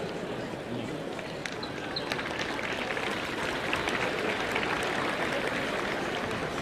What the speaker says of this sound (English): Please give a round of applause for our corporate sponsors.